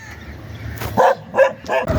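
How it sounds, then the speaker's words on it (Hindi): A guard dog outdoors on an early morning canal road in Punjab barks in three or four loud, close yips and woofs after a quieter start, with no talk over it. "इसकी ड्यूटी होती है भौंकना, तो वो अपनी ड्यूटी पूरी कर रहा है।"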